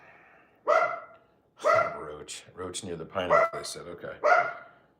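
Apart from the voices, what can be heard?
dog barking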